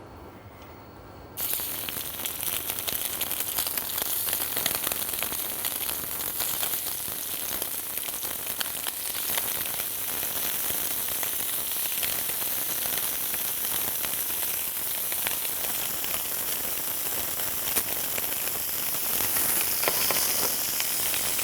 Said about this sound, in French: L'huile est bien chaude, on lance les Saint-Jacques en cuisson.